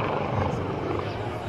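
An Airbus Helicopters EC135 at a Bundeswehr open day display in Faßberg, its rotor and turbine making a broad steady roar, with a voice talking over it.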